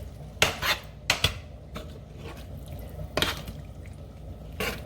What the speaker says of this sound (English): I don't know why I'm still using this spoon because the sound of it is driving me insane